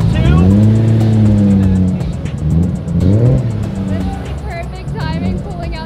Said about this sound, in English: Is this the Paul Walker edition R32?